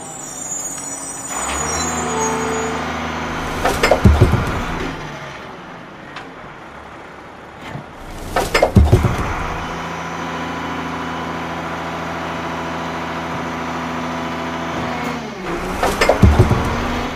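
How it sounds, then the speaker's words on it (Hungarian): A garbage truck's compactor runs through repeated cycles inside the truck, a loud diesel engine roar with hydraulic whines rising and falling and sharp metallic clanks and air-brake-like hisses about every four seconds. "Oda néz, mi történik a kukás autó belsejében? Összenyomja a szemetet, hogy jó sok beleférjen."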